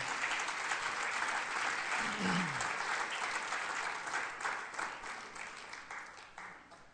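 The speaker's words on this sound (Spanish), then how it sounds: "dele un aplauso a ese grupo mínimo" A church audience claps in a dense, sustained round of applause that slowly thins toward the end, with a brief voice rising briefly through the clapping.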